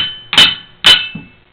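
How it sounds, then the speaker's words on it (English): Two sharp metallic hammer taps on a cast iron chair spider beneath a removed seat, each ringing briefly, with a fainter third knock after; close and alone. "you lightly tap against the cast iron spider."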